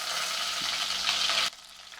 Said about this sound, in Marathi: मी ते दोन कांदे चिरून घेतलेले उभे ते परतून घेणार आहे